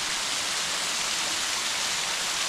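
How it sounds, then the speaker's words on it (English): Shangri La Falls pours in a steady, dense hiss of falling water, heard from the side at moderate distance, unbroken and even with no one speaking. "Right there's the waterfall from the side."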